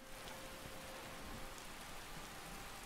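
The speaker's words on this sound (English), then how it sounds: "it's going to piss down the rain on me" Rain falls in Skyrim as a steady, even hiss of drops, continuous and fairly faint, with no voices over it.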